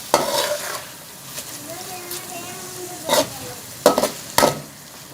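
Chicken shawarma with yogurt, salt and black pepper sizzles softly in a pan, broken by several short, scraping bursts of stirring, with a voice faintly present.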